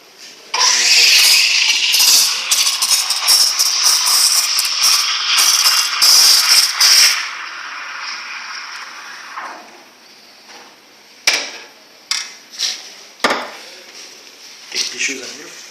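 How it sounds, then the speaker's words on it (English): A Lavazza Hybrid coffee machine's high-power steam wand froths milk for a cappuccino, a loud continuous hiss and gurgle for several seconds that then gives way to quieter clinks and short taps. "Now I'll show you how to use steam wand."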